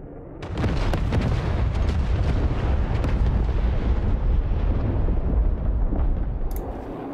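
An anti-runway bomb from a JF-17 in the video game DCS explodes, a heavy blast erupting into a deep, sustained roaring rumble that fills several seconds before beginning to fade.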